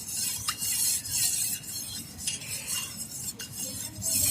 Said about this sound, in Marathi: त्यात मी 1 चमचा दही घालणार आहे आणि हे छान असं हलवून घ्यायचं